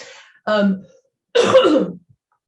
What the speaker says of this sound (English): Gonna cough occasionally.